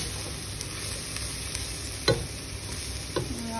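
Banana stem stir-fry (thoran) stirred in a pan over a steady low sizzle, with a couple of brief scraping stirs standing out.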